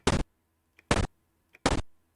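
Short punchy thwack hit effect from a chiptune-style Pico-8 brawler game, three identical sharp synthetic bursts spaced evenly, each followed by a faint blip, loud and alone.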